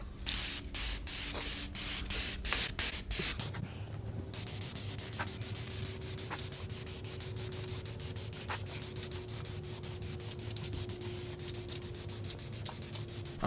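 Close hissing bursts of spray primer onto a K series valve cover, several short rattling sprays at the start followed by one long continuous hiss.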